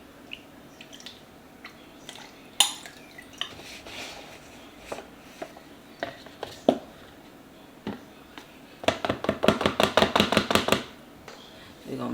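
Arrowroot powder is mixed into melted shea butter and coconut oil, scattered taps and scrapes giving way to a quick run of rhythmic clicking strokes against a container.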